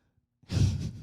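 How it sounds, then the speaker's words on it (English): A single big yawn, a short breathy exhale that swells quickly and trails off over about half a second, close and fairly loud, with no talking. "She's still touching me and gave a big yawn."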